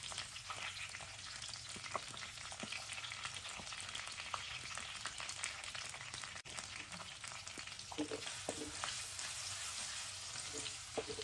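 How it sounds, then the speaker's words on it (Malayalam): Long-cut ginger and garlic fry in coconut oil in a clay pot, giving a dense, continuous close sizzle that holds evenly throughout with faint stirring touches; no talking. "ഇഞ്ചി വെളുത്തുള്ളി നീളത്തിലരിഞ്ഞ കേട്ടോ ചേർത്ത് കൊടുക്കാം"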